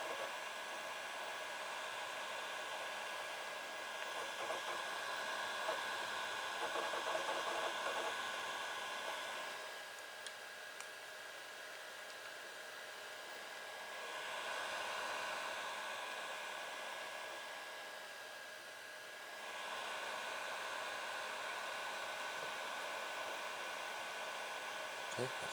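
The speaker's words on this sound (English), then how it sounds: "this is what the fan sounds like" A game console's cooling fan whirs as a steady, faint broadband hiss, swelling and easing slightly a few times over about twenty-five seconds, with a faint tonal whine beneath it; no one talks.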